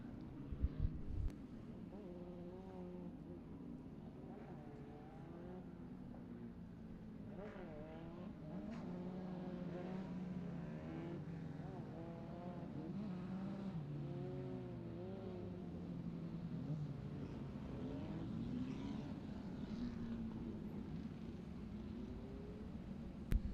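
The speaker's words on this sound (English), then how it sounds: "So here they come, air-cooled cars." Air-cooled racing cars rolling onto the grid at a circuit race meeting, several engines rumbling and blipping with shifting pitches, fairly distant and steady, with no talking.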